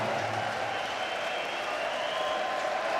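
A darts crowd applauds steadily after Simon Whitlock wins a leg in the final of the German Darts Grand Prix, a sustained even wash of clapping filling the arena with no break.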